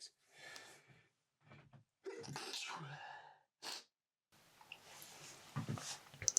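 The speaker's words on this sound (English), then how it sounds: "I feel like that's the first time I've sneezed on camera." A quiet sneeze among soft breathy sounds, preceded by short gasps and followed by faint rustling and shuffling noise.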